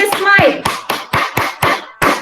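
Hands clap at a steady, moderate pace, with five or six crisp claps close by. A voice speaks briefly over the first claps.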